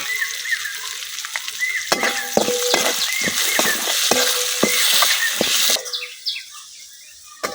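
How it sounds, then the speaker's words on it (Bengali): Onions frying with garam masala and bay leaves in an outdoor village kitchen, a steady loud sizzle with scraping stirs and birds chirping in the background, fading to quieter sizzling at the end. "পেঁয়াজটা হালকা ভাজা হয়ে গেছে, এখন আমি কিছু গরম মশলা তেজপাতা দিয়ে দিতেছি"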